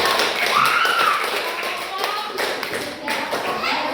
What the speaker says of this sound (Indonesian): Kita berikan aplaus yang paling